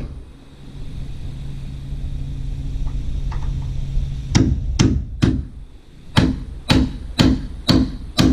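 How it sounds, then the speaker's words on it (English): A hammer drives Simpson hanger nails into metal roof truss hangers with seven sharp, ringing blows in an uneven rhythm, close and loud over a steady low rumble of background machinery. "There's one nail goes into that, and so I use the long nail."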